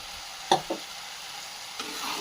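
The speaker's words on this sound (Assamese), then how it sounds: "নুডলছখিনি দি এতিয়া ভালদৰে লাৰি দিছোঁ।" Noodles frying in a pan are stirred with two quick scraping strokes over a faint sizzle, then a softer scrape near the end, quiet and close.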